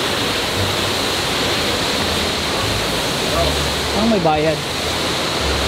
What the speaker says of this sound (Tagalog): Ayan na yung waterfalls!